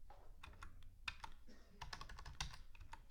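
Quick, light clicks of a computer keyboard as origin and destination zip codes are typed in, coming in short irregular runs, close but faint, with no voice over them.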